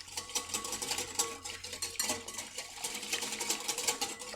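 A spoon or whisk stirring mustard into a thick batter for small savory vegetable tarts, a continuous rhythmic scraping and clicking against the bowl, close and fairly quiet, with no talking.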